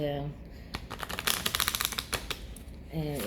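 A rapid ruffling patter of cards being shuffled, quick flicking riffles in the middle, with a voice talking before and after.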